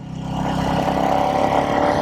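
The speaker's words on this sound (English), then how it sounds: "So this is a 349cc engine." A Royal Enfield Meteor 350 motorcycle's 349cc engine with its catalytic converter removed hums steadily at close range, a mid-pitched throbbing tone that swells slightly and holds.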